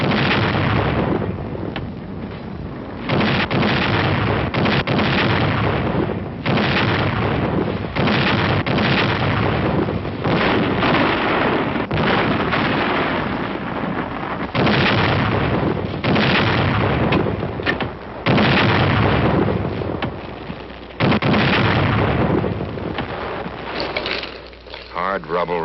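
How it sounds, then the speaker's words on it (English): Artillery guns firing in 1951 Korea: loud, repeated heavy booms and blasts dominate an old, band-limited recording, with a narrator's voice running underneath through much of it. "Number 1 gun, fire!"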